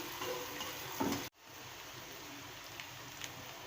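Onions softening in a pan while making bitter gourd with onion, a soft, steady sizzle with faint stirring, briefly cut by a sharp break before the gentle frying continues.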